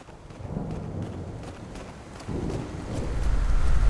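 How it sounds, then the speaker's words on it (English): A thunderstorm rages outside in the video game Eternal Hope, a steady low rumble with rolling surges that build toward the end, heard alone with no talk. "It seems like a really terrible storm happening outside"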